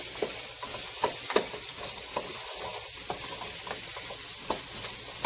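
Carrots and celery sizzle in a hot pan as they are stirred with seasonings for a vegan tortilla soup, a steady frying hiss with scattered soft scraping and clinking from the stirring.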